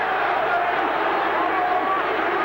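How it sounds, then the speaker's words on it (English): Wild, roaring crowd at a 1994 Bledisloe Cup rugby match between Australia and New Zealand in a stadium, a dense continuous swell of cheering heard with a commentator's voice over it. "The crowd's going wild."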